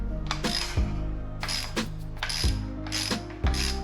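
Ratchet clicking in quick bursts as a timing belt tensioner bolt is tightened on a Honda Integra B-series engine, four separate runs of close, crisp pawl clicks with short pauses between.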